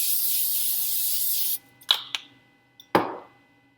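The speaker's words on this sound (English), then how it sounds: "and spray it again." A steady hiss of aerosol cooking spray onto a pan, for a fried egg sandwich, runs for about a second and a half, followed by a few short bursts and clatters, close by.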